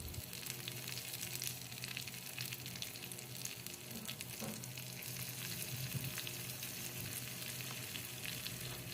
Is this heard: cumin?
yes